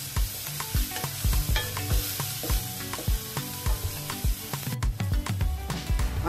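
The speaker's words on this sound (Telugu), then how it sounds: "ఆనియన్స్ వేగే వరకు ఫ్రై చేసుకుందాం." Onions with ginger, garlic, green chillies, salt and turmeric sizzling in a pan, a continuous crackling hiss punctuated by regular scraping stirs and clinks, close and loud with no talking.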